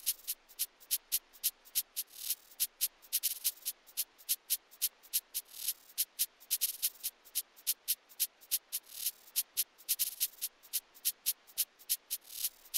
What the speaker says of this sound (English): And we have this shaker pattern as well,